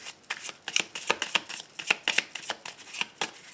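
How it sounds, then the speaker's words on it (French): Tarot cards riffled and shuffled by hand, a rapid run of crisp, papery flicks and slaps close up, with a few cards slipping loose and dropping amid the steady shuffling. "j'ai des cartes qui tombent"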